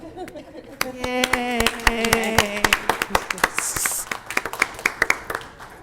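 Audience applauding artists at a public arts commission meeting, individual claps near the microphone building into a steady round of applause over a sustained chord and a few voices.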